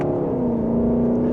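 Lexus LC500 with its 471-hp naturally aspirated engine in Sport Plus mode, pulling under mild acceleration: a steady, close engine drone with a strong low hum and a faintly rising pitch, continuous and alone.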